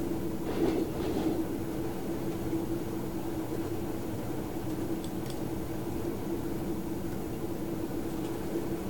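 Train in a railway simulator game running along the tracks with a constant low rumble and steady drone, a brief rattle near the start and faint clicks later, no one speaking.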